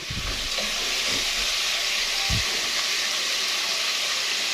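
Chicken for pochero sautés in a pan with a loud, steady hiss and sizzle, and a few low knocks from stirring.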